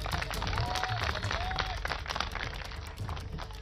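A crowd at an outdoor election-programme gathering in Lucknow claps in a dense, steady patter for several seconds, moderately distant, with a few faint voices mixed in.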